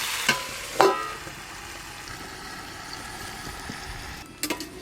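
Papaya cooking covered in a pan, a steady soft sizzling hiss with a couple of metallic clinks near the start and a rattle at the end.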